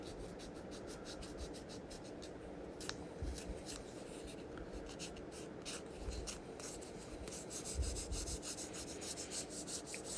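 Hofner Beatle bass frets being polished with small abrasive pads, a steady close rubbing and scrubbing sound that runs continuously at an even level with occasional light ticks and no talking.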